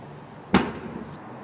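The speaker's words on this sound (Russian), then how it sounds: "И даже что-то взрывается." A single sharp explosion bursts at a burning site, a sudden loud crack with a short rumbling tail that fades into quiet background.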